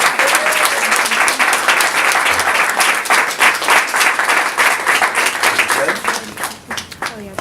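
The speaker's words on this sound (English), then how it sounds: "Let's have another applause for Mimi." An audience at a school panel event breaks into loud, sustained applause, dense clapping that thins out toward the end.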